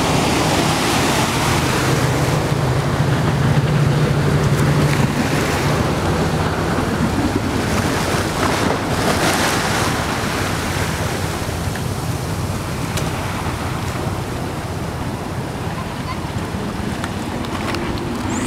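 A U.S. Customs and Border Protection boat passes on open water, its engine a loud, steady rumble mixed with the wash of waves and gusty wind buffeting the microphone throughout.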